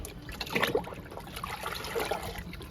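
Liquid compost poured onto the soil of a jamun plant in a garden, a soft trickling and splashing of liquid in two short bursts, faint and close with light background noise.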